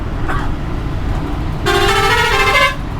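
A bus honks on a highway near Chiplun with a loud, bright horn blast of about a second, over a steady low road rumble from the passing traffic.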